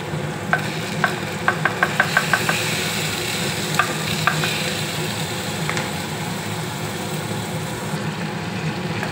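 Chopped onion frying in a pan for chana masala, a steady close sizzle with a quick run of light metallic taps early on and a few scattered clinks of stirring later.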